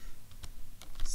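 Typing into the Windows search box produces a few scattered, sharp keyboard clicks, close and moderately loud, over a quiet background with no talk.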